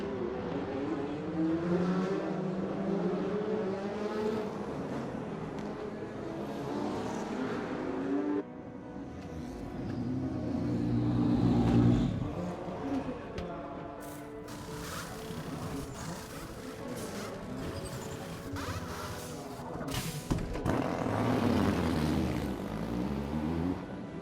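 Ford GT race cars battle a Ferrari on track, with loud engine roars rising and falling as the cars accelerate and sweep past in turn. The sound is continuous and heard without commentary.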